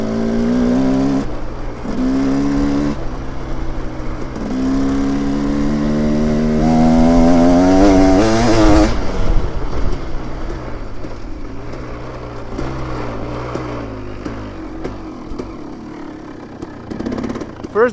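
A KTM 300 motorcycle fitted with a Lectron H series carburetor, its engine rising in pitch through each gear at low RPM with distinct shifts between pulls, loud and close, then settling back.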